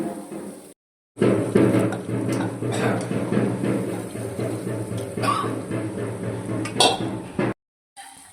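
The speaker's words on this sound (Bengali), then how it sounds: "তেল ছেড়ে গেছে এবার আমি দিয়ে দেবো মটরশুঁটি" Green peas go into hot oil in a pan. A dense clattering sizzle starts suddenly and holds steady for several seconds, with a few metallic clinks, then cuts off.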